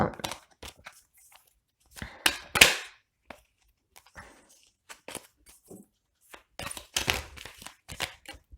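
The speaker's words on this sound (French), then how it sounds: "plein de cartes qui tombent" Tarot cards spill from a deck in a scatter of crisp slaps and papery flutters, close by, in several short bursts separated by quiet gaps.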